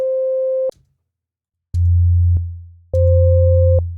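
Pure synthesized tones sound in separate bursts: a mid-pitched beep, a pause, then a low hum, then the two tones, including a sixth harmonic, played together.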